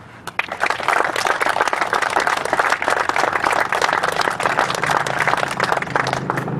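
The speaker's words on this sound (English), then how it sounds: "I'd like to give them a big round of applause" Crowd applause at an EMS station groundbreaking ceremony, a loud, dense wash of clapping that holds steady for several seconds with no talk over it.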